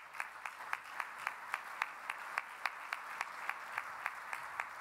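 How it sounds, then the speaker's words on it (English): A faint, steady wash of audience applause at an industry awards luncheon, with individual claps sounding at a regular rhythm throughout, fairly distant. "If we could have a round of applause for them."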